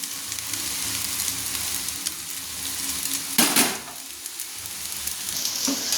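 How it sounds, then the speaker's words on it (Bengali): Chicken chowmein noodles sizzle in a pan as they are stir-fried and tossed with vegetables, a steady loud frying hiss broken by clanks and scrapes of a utensil against the metal. "দেখুন এইভাবে নেড়ে নিতে হবে, ভালো করে চাউমিনটাকে মিক্স করে নিতে হবে সবজির সঙ্গে"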